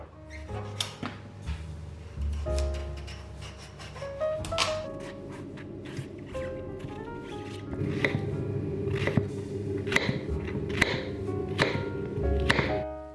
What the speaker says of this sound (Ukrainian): ми просто чистимо, нарізаємо гарбуз і відправляємо його в духовку